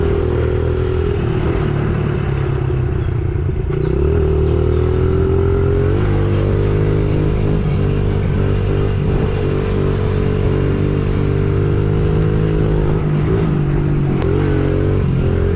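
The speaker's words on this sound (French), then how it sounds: "C'est une moto pour enfants de 10 ans, refroidissement à air." A small air-cooled Honda CRF 110 children's dirt bike engine drones steadily and loudly close by, its pitch rising and falling slightly as it rides along trails with a rattling edge.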